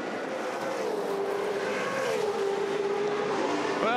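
V8 Supercars race cars in a drag race to the finish at Albert Park, engines screaming in a sustained high whine that holds and wavers, heard at moderate level in broadcast sound.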